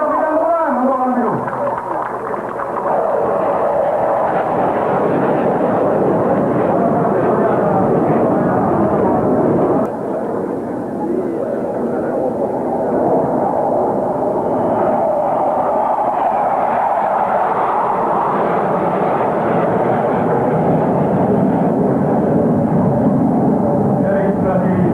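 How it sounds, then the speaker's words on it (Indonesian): Two military jets roar through a crossover drift manoeuvre at an Indonesian Air Force anniversary air show in 1996, a loud sustained engine rumble that swells and fades over many seconds while an announcer talks over it. "Dari depan tampak dua pesawat yang akan melaksanakan crossover drift."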